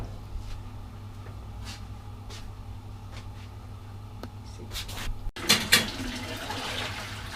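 Water pours into a pot holding three cups of rice while Pakistani chicken stir fry is being prepared, a faint trickle at first that swells into a louder, splashing gush near the end over a low kitchen hum.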